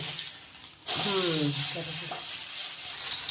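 Corn appe batter frying in oil in an appe pan, a loud steady sizzle that starts abruptly and continues close up, with a few brief clinks of a utensil.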